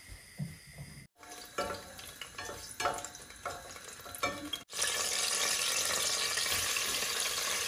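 Oil, onion, garlic and dried chilies fry in a pan as a tempering for dal: a spattering, crackling sizzle with clinks, then a sudden louder, dense hiss as more goes in.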